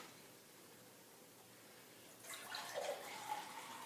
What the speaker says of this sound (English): So I'm going to try to pour without making a complete mess here.